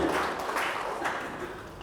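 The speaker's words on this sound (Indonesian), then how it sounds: "Kasih tepuk tangan." A church congregation claps during a sermon, a dense, steady patter of many hands that fades slightly toward the end.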